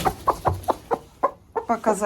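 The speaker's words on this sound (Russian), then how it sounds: "И теперь я сажу курицу на яйца." Broody hen clucking repeatedly in a dark chicken house while being set on eggs, a steady series of close, rhythmic short clucks ending in a longer drawn-out call.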